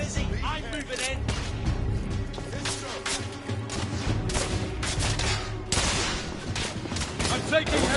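Gunfire in The Order: 1886 game combat: dense, continuous volleys of shots and bursts of automatic fire with crashes, loud and close throughout, with shouted voices over the battle.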